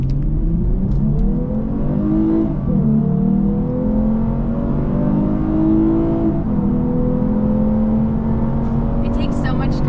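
A 2023 Lexus IS 350 F Sport AWD accelerates in automatic mode, its engine note climbing through the revs in smooth rising sweeps with brief dips at the gear changes, loud and close from inside the car throughout.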